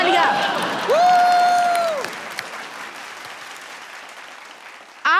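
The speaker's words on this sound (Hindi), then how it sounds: "एक बार हमारे झिंगुर दादा के लिए जोरदार तालियां।" Studio audience on a Hindi TV comedy game show breaking into a short burst of applause under a sweeping musical sound effect, then fading quickly into quieter room noise.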